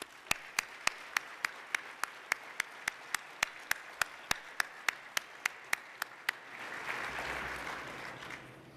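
Applause at a fundraising dinner for a band, a steady run of sharp, evenly spaced claps that gives way to a louder, dense wash of crowd applause near the end.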